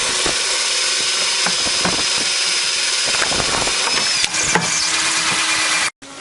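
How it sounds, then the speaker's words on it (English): A power drill whines steadily while boring, with scattered knocks and clunks of work around it and a brief pause near the end. "they're drilling their holes"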